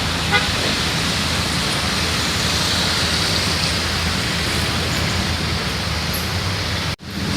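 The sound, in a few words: rain while driving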